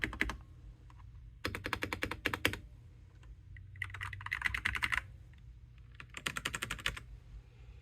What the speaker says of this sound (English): These are nice red switches.